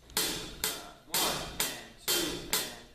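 Hand-played calypso groove on a drum set with the bass drum left out: crisp snare strokes and hi-hat in a steady repeating pattern, about six evenly spaced accented hits over three seconds, close and moderately loud with no voices.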